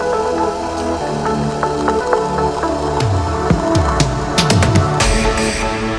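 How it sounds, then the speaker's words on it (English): A small espresso brewing in a home coffee machine, steady pump hum with dripping, squishing and hissing bursts that grow busier toward the end, close and fairly loud, no talk. "I'm gonna make myself just a little espresso today so that it's nice and quick"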